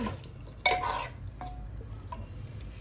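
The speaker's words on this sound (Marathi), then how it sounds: "असं पूर्ण मिक्स करून घ्यायचंय" A spoon stirs a thick mutton masala mixture in a pan, giving one short scraping burst near the start, then softer, fainter stirring scrapes with a low background hum.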